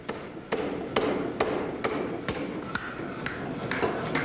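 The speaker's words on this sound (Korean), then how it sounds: "현재는 기계화된 자동 망치질로 작업이 진행되지만 과거에는 사람이 망치로 직접 때려서 작업을 했다고 한다." A mechanical automatic hammer pounds brass while forging traditional Korean bangjja tableware, striking in a steady, evenly spaced rhythm of sharp metallic blows, about ten in four seconds, over a dense workshop din.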